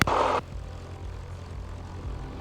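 Piper Cherokee single-engine propeller airplane at takeoff: a loud, broad engine roar bursts in for the first half second, then settles into a steady, lower cabin drone with a continuous hum for the rest.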